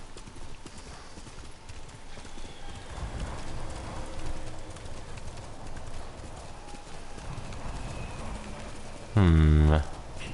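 Horse hooves clip-clop along at a steady walking pace under a faint wash of background noise, and a sharp loud burst cuts in near the end.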